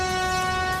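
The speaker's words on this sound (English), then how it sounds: "Every 3 minutes there is a train on this track" A Mumbai suburban train runs loud and close on its track, a steady mechanical roar with a sustained horn-like tonal drone throughout, with no talking.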